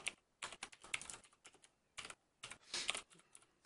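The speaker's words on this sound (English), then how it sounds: "You can see how badly I type." Computer keyboard typing, close and quiet, in uneven clusters of sharp clicks separated by short gaps, with a halting rhythm.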